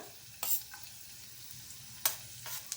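Finely chopped garlic drops into hot oil and crackles, faint frying with a few sharp sizzling bursts and stirring clicks, no talk.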